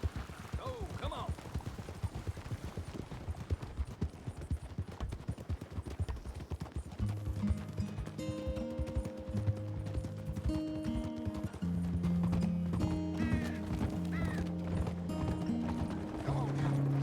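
A horse's hooves clip-clop in a quick, uneven rhythm while its rider urges it on. Voices and a sustained musical score rise over the hoofbeats partway through.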